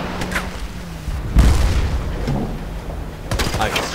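Gunfire and explosions in the online shooter Battlefield Play4Free, several sharp booming shots with a heavy blast in the middle and more shots at the end, loud and close.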